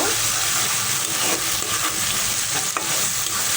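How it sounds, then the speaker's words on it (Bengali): Ginger garlic paste fries with onions in a pan for a Bengali spinach and hilsa fish head dish, a loud, close, continuous sizzle with stirring scrapes throughout. "আদা রসুনটাকে কিছুক্ষণ পেঁয়াজের সাথে ভেজে নেব।"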